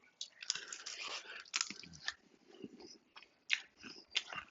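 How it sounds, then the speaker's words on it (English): Close, quiet biting and chewing on the crunchy crust of grilled baby back ribs, with several crisp crunches and moist chewing sounds in uneven bursts, and no talking. "Just a nice little crunch off the crust of that thing."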